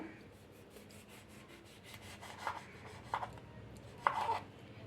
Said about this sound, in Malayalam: നമുക്ക് ഓരോ നാരങ്ങയും നാല് പീസായിട്ട് നമുക്കൊന്ന് കട്ട് ചെയ്തെടുക്കണം നീളത്തിലാണ് കട്ട് ചെയ്യുന്നത്